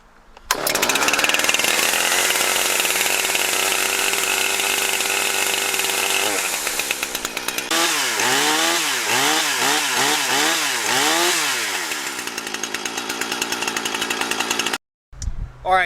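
A bone-stock Husqvarna 460 Rancher chainsaw, primed and full of fuel, fires up on its first start and runs loud and close, a steady high roar that wavers through several revving swells before cutting off abruptly near the end.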